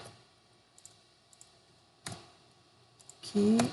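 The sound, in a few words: typing text on computer keyboard in Photoshop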